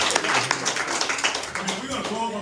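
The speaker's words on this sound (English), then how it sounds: "Let's give them a great hand of applause." Church congregation applauding, dense clapping from many hands heard close and continuous through a short stretch.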